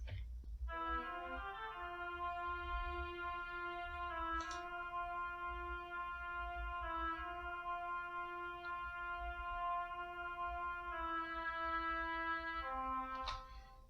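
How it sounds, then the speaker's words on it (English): An isolated oboe and violin play short, sustained melody fragments, clear held tones shifting pitch a few times, quiet and alone over a faint low background hum. "the next things that will enter will be the oboe and the violin, which isolated sound like this."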